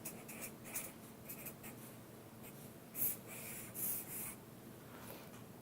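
A hand writes math symbols with a pen or marker, making soft, scratchy strokes in short bursts with brief pauses between them. The writing is faint and close, with no talking.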